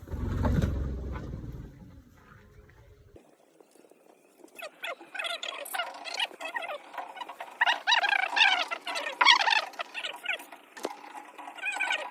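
Laying hens in a poultry coop of about fifty birds give repeated clucks and squawks that come in overlapping bursts, close and fairly loud. A low rumble at the start fades out and leaves only the birds.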